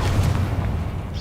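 In the video game Hogwarts Legacy, the Incendio fire spell goes off as a dense, loud low roar with a rumbling burst that stays close and steady.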